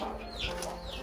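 A brooding hen sitting on eggs makes soft, low clucking and murmuring sounds close by, with a couple of higher rising squawks in a quiet farm setting.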